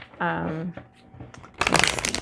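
Tarot cards shuffled quietly during autumn equinox mini-readings, a dense papery riffle-and-rustle burst in the final stretch, following a short stretch of talk.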